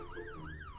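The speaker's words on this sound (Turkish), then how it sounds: "Şu arabanın sirenlerini açmalıyım." In the Roblox game Brookhaven, a car siren wails close and clear, its pitch sweeping up and down in a repeating cycle.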